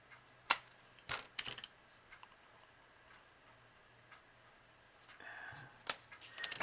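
Sharp, isolated snips of scissors cutting chenille stems, a handful of crisp clicks spread out over several seconds against near silence.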